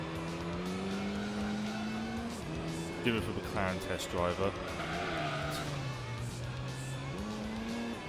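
Race-tuned Camaro engine in Gran Turismo 3, a steady droning roar that rises and falls with gear changes, broken by a burst of tire squeal midway, with someone talking over it.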